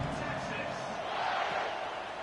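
Broad, steady roar of a stadium crowd at a college football video game, a continuous wash of distant cheering with a commentator talking over it throughout.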